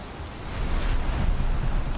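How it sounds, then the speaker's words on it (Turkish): Thunder and rain during a storm in the video game Valheim, a deep rumble swelling under a loud hiss of downpour, close and heavy. "Yıldırım düşüyor, yıldırım."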